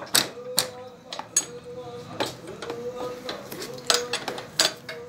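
An 18 mm spanner loosens the upper bolts of a motorcycle's front shock, making sharp metallic clanks and ratcheting taps in an irregular series, close by, with a faint tonal ring after some hits.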